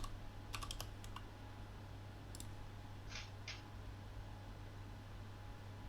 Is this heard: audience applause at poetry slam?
no